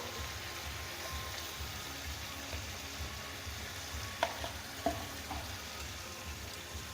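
Arhar dal with ash gourd, salt and turmeric is stirred in a pot, with a steady soft hiss under two clear utensil knocks partway through.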